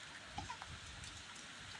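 Heavy rain pours down during a sudden downpour at a car park, a steady, fairly soft hiss of drops with a few faint spatters and no voices.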